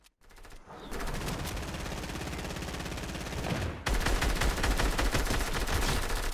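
Rapid automatic gunfire from a gold SCAR rifle in Fortnite, loud and close, in two sustained bursts separated by a brief gap, each a dense stream of cracking shots.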